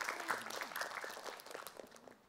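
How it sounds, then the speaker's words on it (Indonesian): Brief clapping from an audience at an Islamic religious talk, a scattered patter of applause lasting a couple of seconds at moderate volume, with some background murmur. "Tepuk tangan buat Ustadz Abi Maki."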